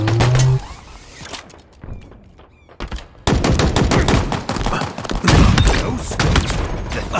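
Dense, loud gunfire in the Halo Infinite Big Team Battle multiplayer mode, rapid automatic bursts and thumping impacts that ease off briefly, then resume even heavier in a sustained barrage.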